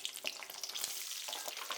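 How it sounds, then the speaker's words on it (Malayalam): Raisins frying in oil after the cashews for a mutton biryani produce a busy, bright crackle with small pops, steady and close, with no voices. "അണ്ടിപ്പരിപ്പ് എടുത്ത ശേഷം കിസ്മിസ് ഇട്ട് കൊടുക്കുക."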